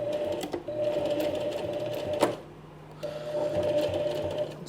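A sewing machine stitches a small fabric coin purse in two close, steady whirring runs that stop briefly in the middle and then start again.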